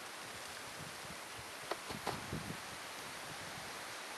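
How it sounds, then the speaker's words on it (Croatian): Wind blows outdoors near a smouldering tyre dump, a steady broadband rush close to the microphone with a few faint bumps and rustles partway through. "Evo malo i vjetar puše."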